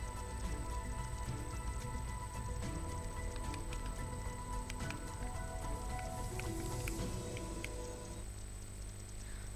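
Heavy early-morning monsoon rain over an area of Gujarat, a dense, steady roar of downpour that continues unbroken for the whole stretch with no clear thunderclap standing out.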